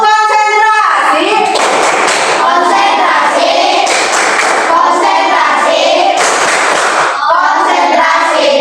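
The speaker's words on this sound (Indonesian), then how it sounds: "Tepuk konsentrasi." Schoolchildren in a science class do a concentration clap, loud rhythmic bursts of clapping in set patterns, with young voices chanting along between and over the claps.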